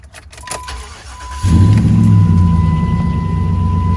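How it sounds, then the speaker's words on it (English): A truck engine cranks and catches, then settles into a loud, steady low idle that rumbles on close by. "let me start up the truck real quick."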